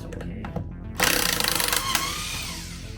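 Older cast pneumatic impact wrench removing bolts from a Sherp tire, opening with a few short clicks, then a loud, sustained buzzing rattle for about a second before tapering off into a quieter whir.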